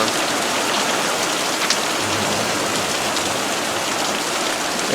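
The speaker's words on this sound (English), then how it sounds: "this is about the most amount of rain we've had, and it's letting up right now" Heavy rain in Prescott, Arizona, beginning to ease off, a dense, steady, loud hiss of falling drops pattering on surfaces, continuous throughout with no voices.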